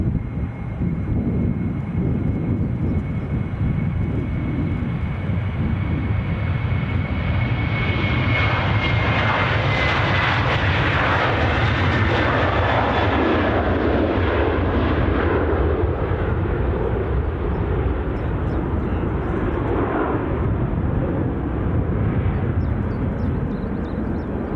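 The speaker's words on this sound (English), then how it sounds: "Looks like it's actually been overtaken by the incoming Copenhagen flight" An airliner arriving at Edinburgh on an incoming Copenhagen flight roars past, the jet noise building to a loud peak around the middle and then easing away, steady and free of talk.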